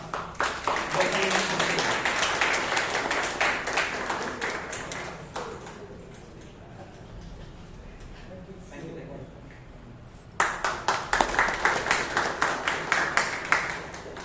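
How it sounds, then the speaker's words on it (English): Toastmasters club meeting audience in Bangalore clapping for a speaker, a dense, loud round of applause that fades midway and then surges back strongly near the end. "let's give him a big round of applause"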